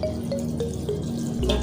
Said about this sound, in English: So into that, I will pour in this hot water